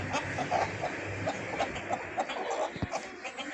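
Spotted and Kappiri parent-stock chickens in a pen: repeated soft clucks and short calls from several birds at moderate distance over a steady farmyard hum, with no one talking.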